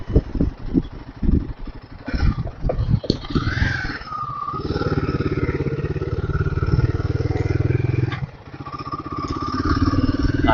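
A Himalayan motorcycle on a test ride at the IMOS 2024 motor show: uneven low chugs and blips at first, then a steady, close-up engine drone as it pulls away, dipping briefly before it rises again.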